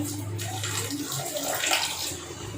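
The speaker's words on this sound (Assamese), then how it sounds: "আৰু এতিয়া অকণমান গৰম পানী দি দিম ইয়াতে।" Hot water poured into a pot of cooking vegetable curry, a brief continuous splashing, gushing pour heard close and moderately loud, with no talk.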